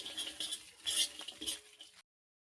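Chicken coated in flour is stirred in hot oil in a pan, giving a few short clinks and scrapes of utensil on metal over a faint sizzle, close and fairly quiet.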